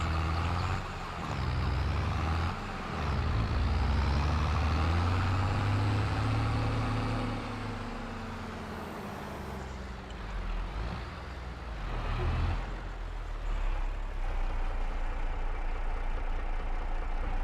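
A tractor engine in Farming Simulator 22 drones steadily and close, with a deep heavy rumble that shifts in load and pitch as it works, then settles into a lower idle-like hum.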